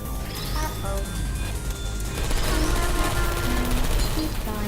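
Rapid bursts of Portal 2 video game gunfire rattle over a dense, noisy industrial soundscape with engine-like rumble and scattered electronic tones, growing louder midway.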